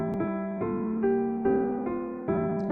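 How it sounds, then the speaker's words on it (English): Beethoven's Ode to Joy rendered as bare, evenly spaced sustained notes, a short plain melodic phrase of about seven tones with no other sound. "The easiest one to start with would be Ode to Joy,"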